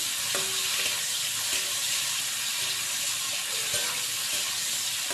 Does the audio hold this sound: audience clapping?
no